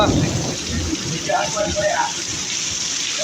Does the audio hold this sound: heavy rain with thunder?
yes